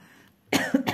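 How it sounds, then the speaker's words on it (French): A person coughs sharply at close range in two or three quick rough bursts after a brief quiet moment, with no talking. "mes bêtises me font tousser"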